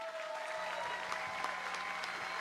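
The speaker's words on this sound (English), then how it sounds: "give them a nice round of applause" Audience applause at a live music contest finals, a dense, steady patter of clapping from a crowd, moderately distant and even throughout.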